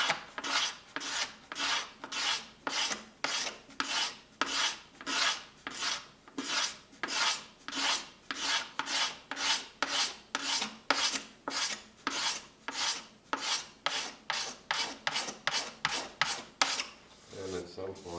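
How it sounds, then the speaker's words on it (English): A single-edge razor blade scrapes steadily across the wooden top of a Stella 12-string guitar, with quick, even back-and-forth strokes repeating in a close, raspy rhythm for the whole stretch. "It's only scraping here in the middle because it's slanted slightly forward."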